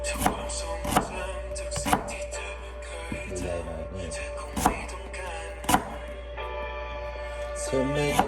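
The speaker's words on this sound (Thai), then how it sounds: "ต่อไปเราจะมาบดกระเทียมกับหอมแดง" Sharp knife strikes on a cutting board, chopping garlic and shallots, come in an irregular series, with a steady low hum and faint background music underneath.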